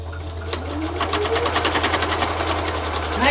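A sewing machine stitches steadily at close range, its rapid, even needle rhythm running over a constant motor hum, with no voices.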